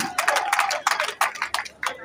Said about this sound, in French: Ok, ça s'applaudit.